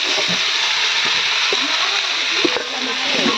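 Vegetables and tomatoes frying in a pan for a vegetarian Saraswati Puja meal, giving a steady close hiss and crackle throughout with a few faint knocks and stirs.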